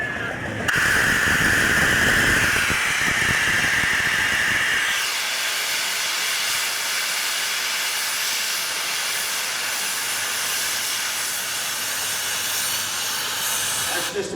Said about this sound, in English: That's called a pop valve, and it releases excess steam that's built up inside